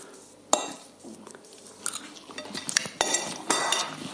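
A fork scraping and clinking on a plate while eating a bacon and chilli omelette, close irregular metallic taps and scrapes, quickening toward the end, with no talking.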